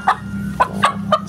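Short clucking calls from a chicken, four or five quick bursts spaced unevenly over a low steady background hum.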